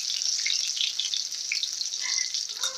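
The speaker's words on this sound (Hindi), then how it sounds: "ऐसे करके हम सबको गोल्डन फ्राई करेंगे दोनों तरफ से" Chicken shami kebabs fry golden in a pan, a bright, close sizzle with a constant high hiss and small popping bursts of oil throughout.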